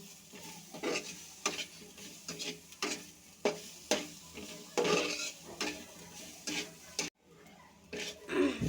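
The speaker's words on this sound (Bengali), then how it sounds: "কালো জিরা দিয়ে দিচ্ছি একসাথে একটু ভাজা ভাজা করে নিচ্ছি" Nigella seeds (black cumin) toasting in oil in a pan, a soft sizzle under repeated clinking stirs of a metal spoon against the pan, fairly quiet and close with a brief pause near the end.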